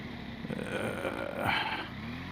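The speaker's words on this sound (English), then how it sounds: "There's a bloody car here, isn't there?" A car passing close by on a narrow country lane, a steady engine and tyre rumble that swells to a peak near the middle and then eases away.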